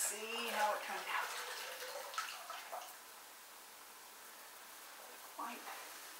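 Water splashes and runs as wooden kitchen cabinets are rinsed down after cleaning. The flow is strongest at the start, then eases to a faint trickle with a brief splash near the end, under some talking.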